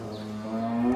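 A cow on a farm lets out a single low, drawn-out moo close by, swelling slightly louder toward the end.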